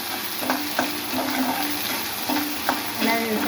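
Prawns frying in a pan for a Kollidam-style prawn fry, a steady close sizzle with brief scraping stirs recurring every second or so, no voices.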